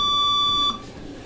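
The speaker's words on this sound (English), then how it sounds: "that beeper is just going to beep every 30 seconds" A workout interval timer gives one sustained, high electronic beep that holds loud and steady, then cuts off abruptly into quiet room tone, with no voices.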